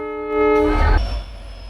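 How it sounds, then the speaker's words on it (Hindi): WDP-4 diesel locomotive at Siliguri station being coupled to the Katihar-Siliguri Express, giving a loud, sustained horn-like tone that cuts off into a heavy low rumble and clank, close by. "WDP-4 डीजल लोकोमोटिव इंजन को कटिहार सिलीगुड़ी एक्सप्रेस में कपलिंग किया जा रहा था।"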